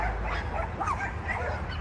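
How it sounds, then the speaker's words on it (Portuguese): Loose dogs bark and yip at a property, several short barks and whimpers at a moderate distance over a constant low outdoor rumble. "os cachorros tá solto, latindo"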